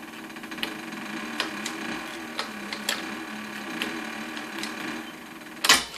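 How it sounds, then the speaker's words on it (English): A home sewing machine runs at a steady hum with ticking needle strokes, punctuated by small clicks and a louder clunk near the end. "I kind of wanted an excuse to sew on my machine"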